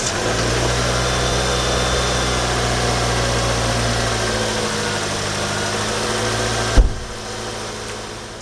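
A car engine idles with a steady, low, vibrating hum that runs evenly for several seconds, then cuts off with a short thump, leaving quieter background noise.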